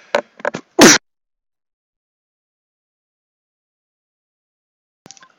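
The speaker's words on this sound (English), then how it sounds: "Ugh, sneezing there." A person sneezes once near the microphone, preceded by a couple of short breathy sounds, then a long silence with a faint click at the end.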